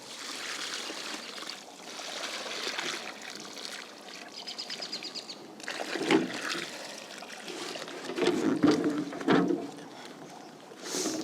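Water poured from a bucket into a potted hydrangea with organic Rev mixed in, a steady splashing trickle with louder gushes late in the pour, alone and close by.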